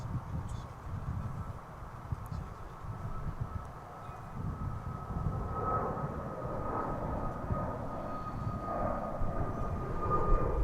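An American Airlines plane landing on runway 36 left at Dallas Fort Worth airport: a low, rumbling engine drone heard at a distance, building slightly toward the end, with faint indistinct voices in the background.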